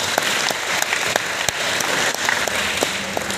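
Audience at a santri digital broadcasting camp claps steadily and fairly loudly, a dense wash of hand claps with a few sharper individual claps standing out, no talk.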